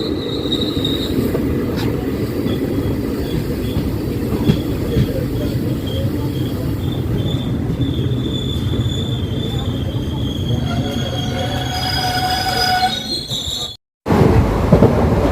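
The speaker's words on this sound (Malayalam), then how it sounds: "ട്രെയിനിപ്പോൾ കോട്ടിക്കുളം റെയിൽവേ സ്റ്റേഷനിലേക്ക് എത്തിരിക്കുകയാണ് കേട്ടോ." An unreserved train pulls into Kottikulam railway station on the Kanhangad–Mangaluru line, wheels squealing in high, wavering tones over a steady rumble of carriages, loud and close throughout with a brief dropout near the end.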